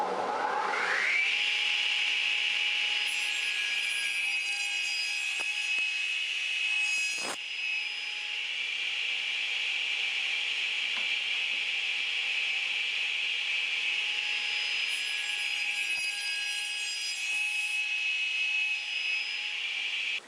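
A power saw cuts through a wooden leg for a bedside table, a loud, steady whine that runs unbroken for about twenty seconds, close and alone with no talking.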